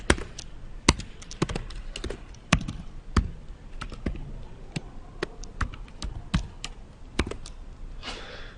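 Password being typed on a computer keyboard, a series of sharp, irregular key clicks with short pauses between them, close and fairly quiet, no voices.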